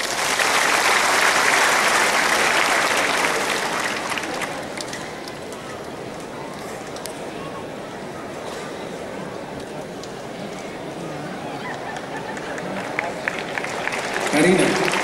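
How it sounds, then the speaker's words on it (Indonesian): A concert audience at a convention hall applauds as a singer is called back onstage, a strong wave of clapping that fades to a lighter, scattered patter with some voices. "Tepuk tangan."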